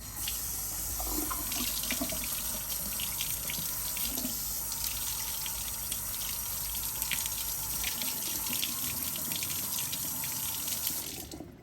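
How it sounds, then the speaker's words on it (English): Tap water runs steadily and loudly into a sink to rinse a part from a 1920s Barrynola gramophone, a continuous splashing stream that stops abruptly at the end. "now use some tepid water to rinse it off"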